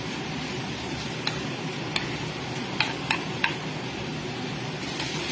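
Marinated beef stir-fries in a pan with a steady soft sizzle, broken by a few sharp clicks of a utensil scraping and tapping the pan.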